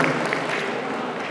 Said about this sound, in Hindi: आप सभी जोरदार तालियों से उनका स्वागत करें, अभिनंदन करें